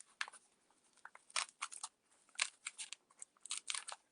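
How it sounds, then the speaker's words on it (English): A biro pen pokes through paper into decorator's foam, giving a series of sharp, dry close-up punctures and crackles in an irregular rhythm over near silence. "I do that just by piercing through the paper"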